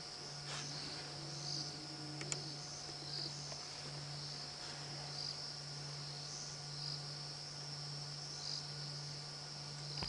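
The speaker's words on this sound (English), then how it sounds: "I can only just hear a few crickets." Crickets chirping at night in the African bush during a safari drive, a faint steady insect trill with a low continuous hum beneath, quiet and unbroken with no voices.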